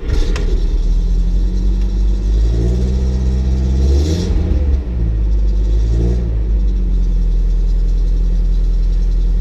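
A 1956 Mercedes-Benz 190SL with a four-speed floor shift driving off: loud, steady close engine rumble with a rise in revs as it pulls away, no voices.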